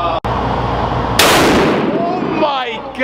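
A very loud single blast from a 60-pound .50 caliber rifle fired from the hip outdoors, an abrupt sharp crack followed by a long rumbling decay, with wind noise around it and a voice reacting afterwards.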